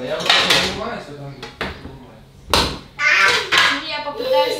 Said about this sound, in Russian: Я попытаюсь с ребенком разобрать посудомойку.